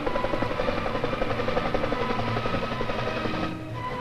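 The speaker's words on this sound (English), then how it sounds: "Some early four-bladed copters actually hovered, while others only bounced." An early four-bladed helicopter drones steadily with a rapid, fluttering rotor pulse, fairly faint and continuous before easing slightly at the end.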